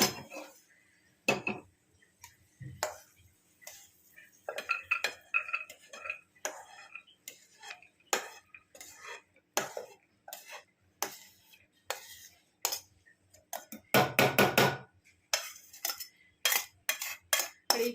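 Metal pots, a pressure cooker and utensils clink, tap and clatter while chana dal is loaded into the cooker. The sounds come close in irregular bursts with quiet gaps between them.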